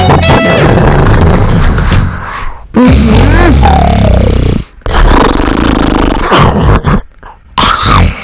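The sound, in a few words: person snoring in bed after a big meal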